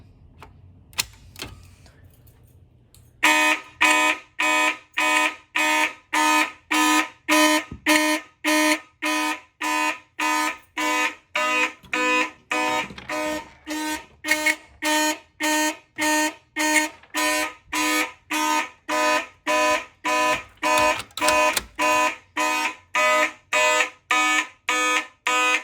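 A fire alarm system triggered from a Silent Knight BG12 pull station sounds a loud, evenly pulsed horn, dozens of rapid identical blasts following a few quiet handling noises at the start.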